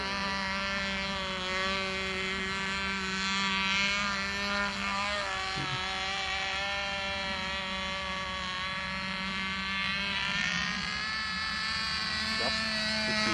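A trainer model airplane's small engine drones steadily with a propeller whine, holding a sustained buzzing tone with slight pitch shifts throughout, while people talk nearby.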